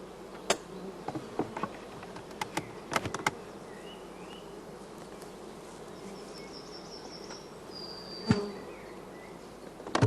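Honey bees humming inside a closed hive, a steady low drone with occasional louder buzzes of single bees passing close by, no voices.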